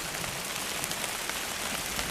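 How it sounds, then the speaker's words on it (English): Steady rain falls on a summer garden, a dense, even hiss of drops with a faint patter of individual hits, close and constant throughout. "And now it's raining."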